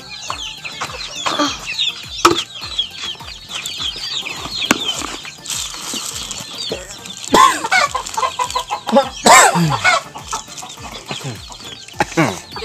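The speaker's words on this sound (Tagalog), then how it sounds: "Tapos guys, magpapakain tayo ng ating mga manok." Chickens clucking and squawking while being fed on a farm, a busy flock close by with overlapping calls and some louder squawks, and a person talking underneath.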